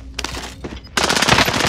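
Rapid automatic gunfire from a shooter video game, with a short burst of shots followed by a loud, sustained stream of machine gun fire close up.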